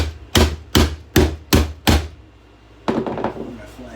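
Punching a part into an alarm clock brings five sharp, evenly spaced knocks close up, then a pause and a rougher cluster of rattling taps, with no voices.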